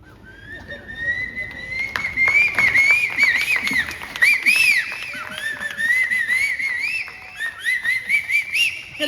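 A person whistles an imitation of a koel's call, a run of rising and swooping notes repeated over several seconds, clear and close against a faint background.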